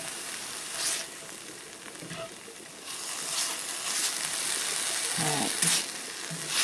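Garlic from a jar sizzles and fries in a soup pot at the start of a Zuppa Toscana, a steady close hiss with a few soft stirring scrapes.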